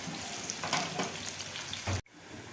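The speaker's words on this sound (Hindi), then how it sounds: "अब मैं इसको थोड़ा सौथे करूँगी, बिल्कुल लाइट ब्राउन या ब्राउन नहीं करूँगी" Onions sautéing in a pan for an aloo gobhi dish, a steady close sizzle with light stirring scrapes that cuts off abruptly near the end.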